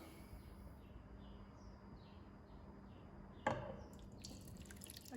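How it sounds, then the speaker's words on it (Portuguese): Corn custard liquid for a Brazilian green corn caramel pudding is poured into a caramel-coated mold, a soft, quiet liquid trickle with drips, ending in a brief louder splash near the end. "Gente, eu vou passar o líquido aqui para a forma."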